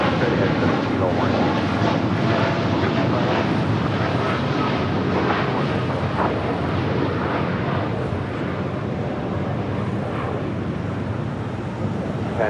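An Air Tahiti Nui Dreamliner airliner rolls and crosses runway 25 right at LAX, a broad continuous roar of jet engines mixed with wind buffeting on the microphone and a voice talking over it.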